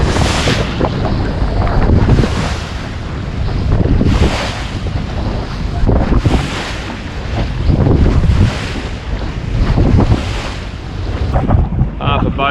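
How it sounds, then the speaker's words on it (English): Wind and ocean waves heard from a 4.95 m boat off the Montebello Islands, with strong gusts buffeting the microphone and surges of surf rising and falling about every two seconds, loud and close, with no talk. "we've still got that tide rushing against the wind and standing a few of these waves up"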